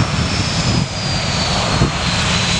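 A TUI airliner's jet engines roar steadily at Manchester Airport as the plane lines up on the runway, a loud, broad, continuous rumble with a faint high whine on top and no talk.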